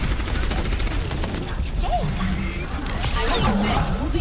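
Gunfire from an Overwatch match on the Lijiang Tower map, loud, dense bursts of shots and mechanical clatter running continuously with players talking over the action.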